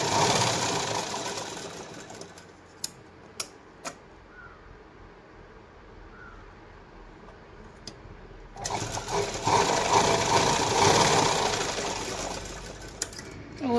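A sewing machine stitches a katori onto a blouse, its steady whirring running in two long bursts split by a quieter pause with a few sharp clicks.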